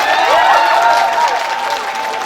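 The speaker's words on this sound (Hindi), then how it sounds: "एक बार ताली बजा के बता" An audience at a poetry recital claps together in a steady burst of applause lasting a couple of seconds, with a faint tonal hum running underneath.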